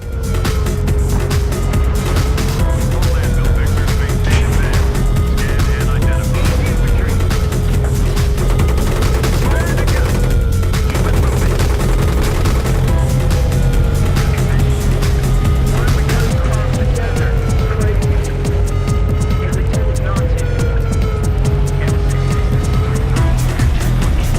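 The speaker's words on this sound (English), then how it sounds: "Let's check out some tank footage before I conclude this review." Battlefield 3 tank gameplay with a steady whining engine drone rising and falling, rapid gunfire bursts and heavy explosions layered densely throughout, loud and continuous.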